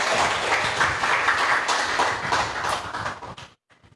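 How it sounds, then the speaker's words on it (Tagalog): A live audience breaks into loud, dense clapping that holds steady for a few seconds before cutting off abruptly into near silence. "Pwede ba yung isang malakas na palakpak yung excited?"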